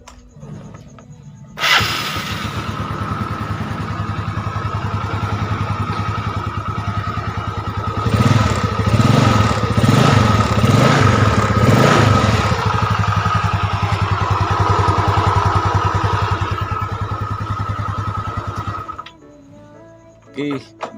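A Yamaha Mio Sporty automatic scooter, with heavy oil seepage from the cylinder block and head, starts up and runs at a steady idle with a brief rev in the middle. The engine is close and loud and cuts off near the end.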